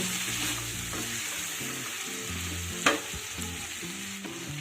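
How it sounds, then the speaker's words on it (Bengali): Ginger paste and ground cumin sauté in a pan for a Malabar spinach curry, making a steady close sizzle with soft stirring scrapes and one sharp knock of the spoon partway through. "এবার আদা বাটা আর জিরেটা সব কিছুর সঙ্গে একটু কষিয়ে নেব"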